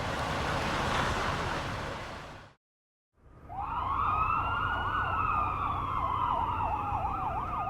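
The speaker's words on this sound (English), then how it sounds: "First heard the sirens." Emergency vehicle sirens wail, a brief silence interrupts, then a near siren returns with a rapid rising-and-falling yelp over road noise.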